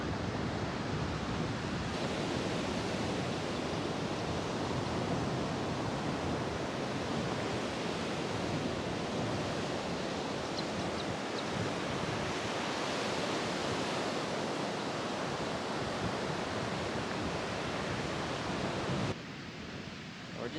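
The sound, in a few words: ocean waves on Gulf beach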